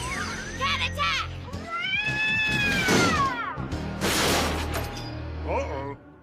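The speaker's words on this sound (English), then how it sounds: "Transport Pepper Cat. Cat attack." Cartoon robot cat from Medabots attacking with loud, wavering meows and yowls that rise and fall, layered over busy animated action sounds and bursts of noise through the scene.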